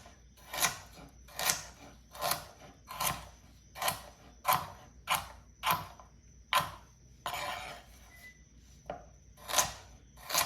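A knife chopping fish into pieces on a board, about a dozen sharp, evenly spaced cuts, close and crisp, with no talking.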